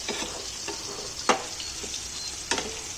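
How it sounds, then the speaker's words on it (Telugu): Whole bitter gourds frying in a pan give a steady close sizzle, with sharp clacks of a utensil against the pan at two points and a few softer scrapes between them. "ముక్కలు కాకుండా కాయగా వేపుతున్నాం"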